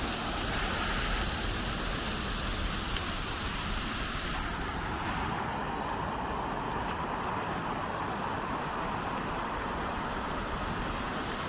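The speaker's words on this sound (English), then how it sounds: "What an amazing fountain," Broad, steady rush of an outdoor fountain waterfall on a Toronto walking route between Lawrence and York Mills stations, loud and constant throughout without a break.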